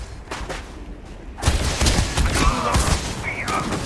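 Laser rifle firing in the game Starfield, a quick volley of loud, close energy shots after a quieter start, with someone talking partly underneath.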